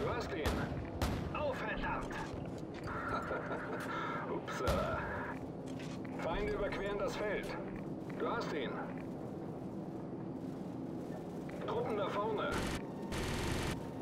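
Gunfire in the video game Call of Duty 4 Modern Warfare, repeated bursts and sharp reports mixed with explosion-like rumble, with speech over the top throughout.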